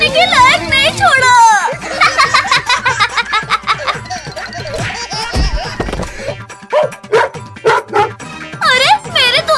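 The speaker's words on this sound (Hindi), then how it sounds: "टोनी भाग, नहीं तो ये कुत्ता आज हमें नहीं छोड़ेगा।" Cartoon dog barking in a Hindi comedy cartoon, loud bursts mixed with children's excited voices, laughter and rapid chatter throughout.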